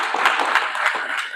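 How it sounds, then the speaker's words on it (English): Audience applause in a talk on building willpower, a steady dense wash of clapping throughout the short stretch with no voices, fairly loud and close. "Give her an applause."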